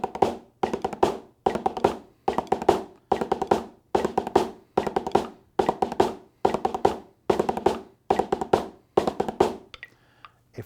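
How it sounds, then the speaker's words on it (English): A snare drum plays five-stroke rolls as eighth notes in 4/4, crisp rapid clusters of strokes repeating steadily about a dozen times, close and alone until the end. "This is very fast for a 5-stroke roll"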